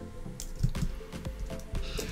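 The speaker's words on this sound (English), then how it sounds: "And we also have a shower." Shower water in a Roblox Bloxburg building runs in a game sound effect, heard as quiet, close, irregular drips and splashy squishes.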